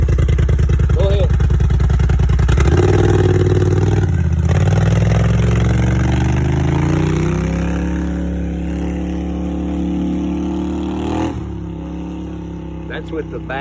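A 2010 Polaris 850 fitted with a cheap aftermarket exhaust with the baffle removed idles loudly up close, revs up with a deep droning roar, then settles back, with a voice speaking briefly over it.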